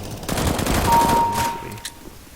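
Loud, close bursts of rapid automatic gunfire fill a CS GO match, a continuous rattling volley with a thin whine over it that fades toward the end.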